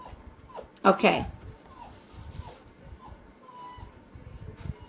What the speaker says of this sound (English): Y'all hear that? That's my dog.